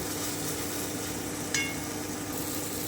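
Ridge gourd and shrimp sauté in oil with a constant, even hiss of sizzling, close and unbroken, marked once by a single light metallic clink.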